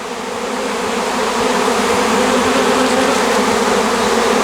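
A swarm of honey bees flies around a branch where the queen has settled, making a loud, dense, steady buzzing hum close by, with no voices.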